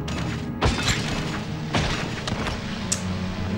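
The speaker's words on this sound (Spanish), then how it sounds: "se ha comido toda la explosión" Explosions in the PlayStation 2 game Baldur's Gate Dark Alliance, two deep booming blasts with crashing debris over a constant game soundscape, loud and close.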